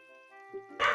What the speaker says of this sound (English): that is my dog in the background being very angry